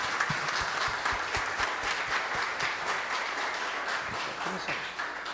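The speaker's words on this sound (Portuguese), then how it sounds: "Agora sim, essa salva de palmas." A church congregation applauds at a family worship service, a dense, steady wash of clapping for several seconds with some voices mixed in.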